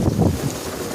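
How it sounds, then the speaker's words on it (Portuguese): Strong gusting wind with rain during a storm in Salvador, Bahia, heard as heavy rumbling wind buffeting the microphone over a steady wash of noise, loud and close, no voices. "A chuva tá caindo deitada, meu irmão. Uma ventania a tarde toda"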